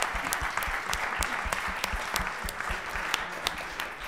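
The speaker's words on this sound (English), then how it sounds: "maybe I'll applaud for that" Applause from an audience at an expert panel on aeronautics and hydrogen, steady dense clapping filling the room for several seconds with no talk over it.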